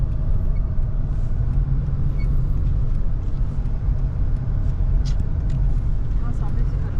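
A car coasts in neutral at Madina Magnetic Hill in Saudi Arabia, giving a steady close rumble of tyres and road noise with faint scattered ticks and no engine revving; a voice is briefly present.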